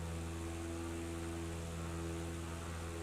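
A small propeller plane flies in a flight simulator, giving a steady, droning engine hum with strong low tones that holds unchanged throughout.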